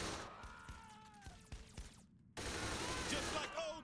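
Gunfire in Saints Row the Third, bursts of shots at moderate loudness, broken by a brief quiet gap before a denser stretch of firing and commotion.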